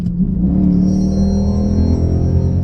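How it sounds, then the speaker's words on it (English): A Chrysler 300 SRT8's Hemi V8 rumbles up close in a deep, sustained growl, heard alone without talk. "Enjoy that Hemi. You know, when I want to step on it, downshift a little bit."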